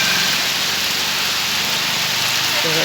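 Heavy rain pours steadily over Sylhet, a dense, continuous hiss close by with a faint engine hum underneath and no break in the downpour.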